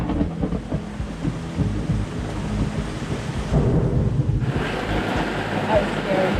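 Heavy thunder from a lightning strike over a bay during a windy storm, a loud broad rumble that swells and rolls on under steady wind and rain noise.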